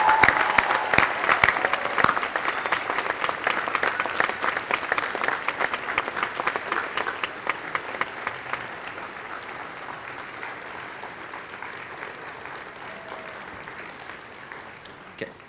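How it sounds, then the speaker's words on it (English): Sustained applause fills a college graduation ceremony at Bowdoin, a dense wash of clapping from a large audience that holds steady before slowly thinning and fading toward the end. "a second round of applause for the Bowdoin faculty and staff"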